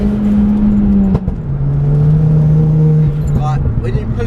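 A car with BC Racing coilovers pulls hard under acceleration, its engine droning steadily and close, dipping briefly as it shifts before climbing again, with faint interior rattles.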